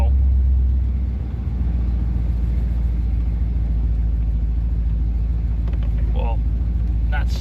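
A 1976 Corvette driving on slushy, snowy road, its engine a steady low rumble with constant road noise throughout, and brief chirps of other sounds near the end.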